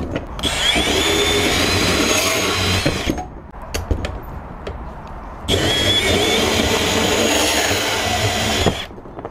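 A Milwaukee compact brushless band saw cuts through 3/4-inch EMT conduit, giving two loud buzzing, rasping runs of about three seconds each, separated by a quieter stretch with clicks and handling noise.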